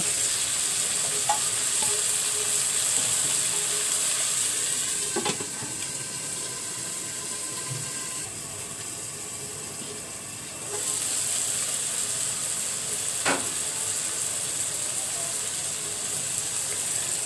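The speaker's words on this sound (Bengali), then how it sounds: "আমি রসুন ও চিংড়ি মাছগুলো একটু কষিয়ে নেব" Garlic and shrimp sauté under a lid in a covered pan with a steady, close sizzle and frying hiss, broken by a few sharp clinks and scrapes of a utensil against the pan.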